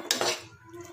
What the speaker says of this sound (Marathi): आपण बघा मी रवा त्याच कढईमध्ये भाजायला ठेवलेला